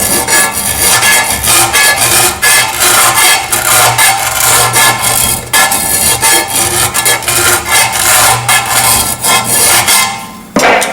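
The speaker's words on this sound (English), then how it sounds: "I'll just clean it up a bit with a sander, get the burrs off." A power sander grinds burrs off metal on a Ferguson TEA tractor in long continuous bursts, loud and close, with brief pauses and a sharp clank near the end.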